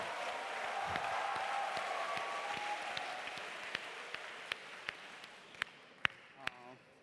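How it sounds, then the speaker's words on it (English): An audience claps at an alumni talk event, a broad wash of applause that thins out into a few isolated, louder claps near the end before fading. "Big round of applause."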